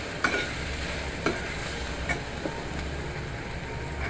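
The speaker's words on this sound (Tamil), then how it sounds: "நல்லா கிளறி விட்டுக்கோங்க." Onions frying in oil with turmeric are stirred in a pan, a steady close sizzle with a few scraping strokes of the spoon breaking through.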